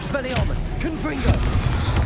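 Confringo spell blasts in the Hogwarts Legacy video game land as dull booming impacts mixed with bright magical whooshes and voice-like effects, all packed into a brief, busy burst.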